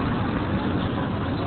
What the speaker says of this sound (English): Yeah, there's the tractor puking.